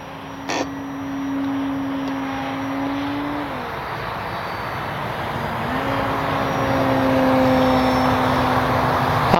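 An RC model airplane with a propeller engine takes off, its steady buzzing drone running throughout, dipping briefly midway and then climbing again, close and fairly loud with no talking.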